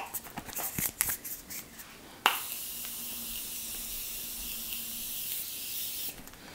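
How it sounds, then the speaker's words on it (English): Morphe Jumbo Continuous Setting Mist sprayed onto a face gives one long, steady hiss lasting about four seconds after a few faint handling taps, close and alone. "I want to set my face with the Morphe Jumbo Continuous Setting Mist."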